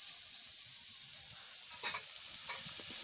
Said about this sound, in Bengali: সয়াবিনটা একটু ভালো করে ভাজ দিয়ে